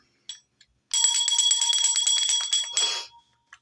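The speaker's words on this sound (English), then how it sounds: "So let's ring the bell." A small bell is rung rapidly and continuously for about two seconds, making a bright, shimmering trill that cuts off abruptly. A couple of faint taps come just before it, and no one speaks.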